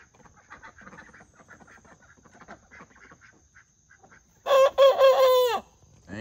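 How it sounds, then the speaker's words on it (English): Rooster on a farm giving one loud, close crow toward the end, after a quieter stretch of soft clucking and murmuring from nearby fowl including ducks. "You gonna crow for us, Dino?"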